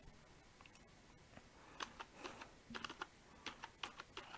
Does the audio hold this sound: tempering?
no